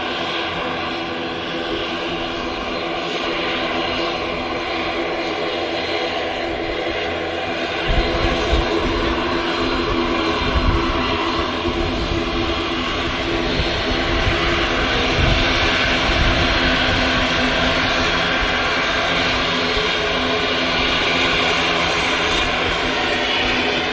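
Aircraft engines roar loudly and steadily at Manchester Airport, a turboprop ATR close by as jet airliners move on the runway, the noise swelling slightly partway through with no talk.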